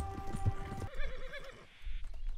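A horse in Red Dead Redemption 2 neighs and whinnies with clip-clop hoofbeats, a loud close whinny rising and falling in the middle, with hooves and game ambience around it.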